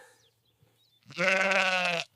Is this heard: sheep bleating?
yes